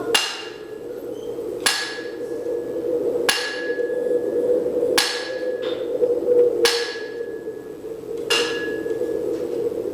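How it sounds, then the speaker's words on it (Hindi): A steel chisel is hammered against rock on a hillside, giving six sharp, ringing blows at a steady, unhurried pace over a low background hum. No one speaks. "पत्थर पे छेनी की मार पड़त होए ना"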